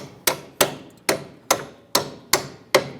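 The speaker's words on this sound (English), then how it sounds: "Tap our bolt through" A hammer taps a strut bolt through the lower control arm during strut bumper and boot work on a 2005-2010 Chrysler 300: seven sharp, evenly spaced metallic blows, close and loud, with no voices.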